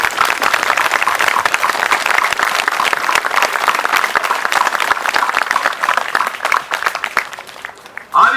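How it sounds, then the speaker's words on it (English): An audience at a living history reenactment battle weekend at Camp Mabry gives veterans a round of applause, steady and loud with a full crowd, sustained for about eight seconds. "Let's give them a round of applause."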